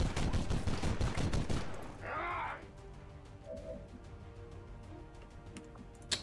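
Gunfire from the tactical video game XCOM 2, a loud rapid volley of shots in the opening two seconds followed by a short burst, then quieter game ambience with faint clicks.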